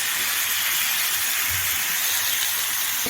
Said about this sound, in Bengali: দিয়ে দিচ্ছি পরিমাণ মতো নুন, আর দিয়ে দিচ্ছি কুচিয়ে রাখা টমেটো।